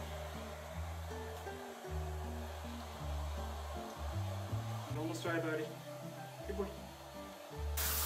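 A hair dryer drones steadily while a wet dog is dried after a bath, with people talking over the blowing throughout and a brief spray-like hiss near the end.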